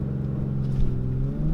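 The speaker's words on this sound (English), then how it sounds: "The turbo spinning up like crazy, and it just rockets you off the line." A 355-hp 2019 BMW X4 M40i pulls hard under acceleration from inside the cabin, its engine a loud, steady low drone with rising harmonics as revs climb, with no talk over it.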